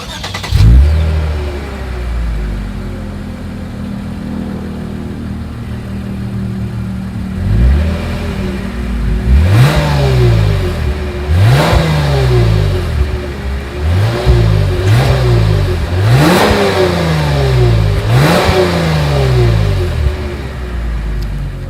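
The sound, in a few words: 2020 Lexus IS 300 F Sport exhaust revving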